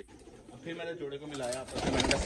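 Desi Pipla breed pigeons coo in a soft, throaty warble, heard close under someone speaking Hindi steadily over them.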